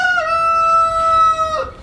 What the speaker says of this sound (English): I'm sorry that rooster is crowing